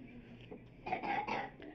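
A girl with a bad cough gives a few short, rough coughs and throat-clearing sounds indoors, close and fairly quiet.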